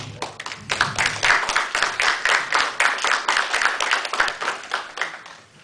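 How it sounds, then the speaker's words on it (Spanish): An audience at a law debate event applauds a speaker, a lawyer: close, loud clapping from a small crowd with distinct individual claps, sustained for several seconds. "para quien pido un fuerte aplauso"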